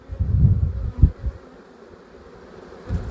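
Honey bees buzz around an open hive during a queen check, a low droning hum in short swells up close, fading between bursts with faint wind behind.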